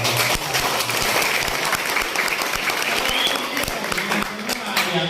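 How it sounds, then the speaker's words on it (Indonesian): Indoor audience at a regional official's address in Magetan, East Java, breaking into sustained clapping, dense and fairly close, with a voice talking over it. "Tepuk tangan dong"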